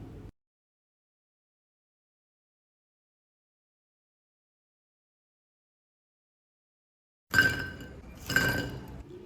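Crispy fried nimki handled after frying, two crisp clattering bursts near the end following a long silence, close and fairly loud.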